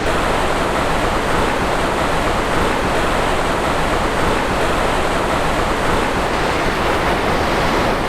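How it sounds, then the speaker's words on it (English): Steady, full broadband rush of a flowing mountain river on the Kheerganga trek near Kasol, like rapids, constant and close with no breaks or voices. "The sound of the river,"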